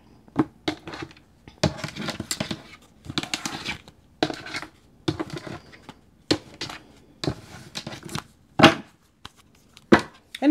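A deck of tarot cards is cut and handled at close range, with a string of crisp rustling, riffling bursts separated by short pauses and a few sharper slaps.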